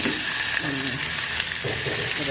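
Ground pork sizzles loudly in a pan with browned garlic and onion, a dense steady hiss close up while a voice speaks briefly over it.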